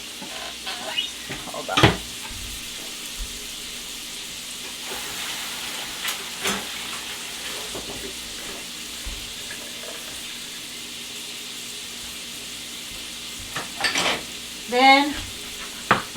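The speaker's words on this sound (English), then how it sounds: "Just keep sauteing it." Shrimp scampi sautéing in a pan, a steady low sizzle running throughout with occasional sharp scrapes and clinks of a utensil, while a voice speaks briefly.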